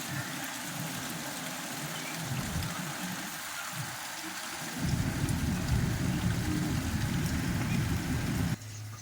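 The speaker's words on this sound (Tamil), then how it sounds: "நல்லா மழை பெஞ்சிட்ருக்குங்க." Steady rain falls, a constant broadband hiss that grows somewhat heavier and denser partway through, with no voices heard.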